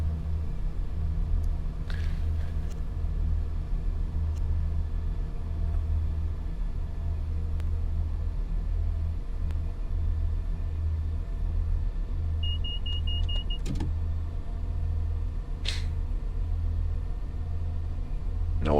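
A train in the Train Sim World game on the Fife Coast Railway accelerating at full throttle, a steady loud low rumble of engine and rolling with a few brief beeps and clicks over it.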